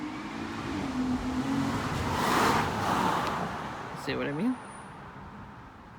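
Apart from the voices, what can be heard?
car speeding down a residential street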